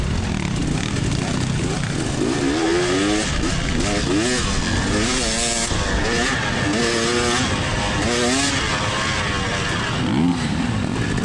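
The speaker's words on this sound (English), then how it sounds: "The fella behind me rev bombs" Dirt bike engines rev and drone continuously through a ridge-running off-road race, loud and close, with shifting pitch sweeps as riders accelerate in a pack; a voice talks over the engine noise.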